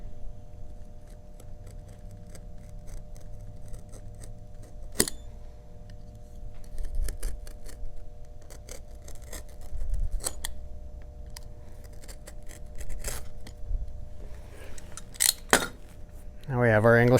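A blade cuts an English point on a leather belt strap, with a few sharp, isolated snips and clicks against a quiet room hum, close and faint.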